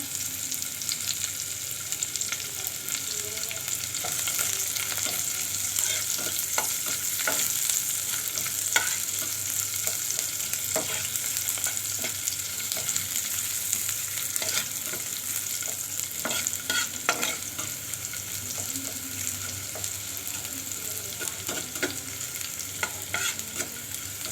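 Spices, onion and garlic for a lentil dal frying in a pan, a steady bright sizzle with frequent stirring scrapes and clicks running throughout, close and alone.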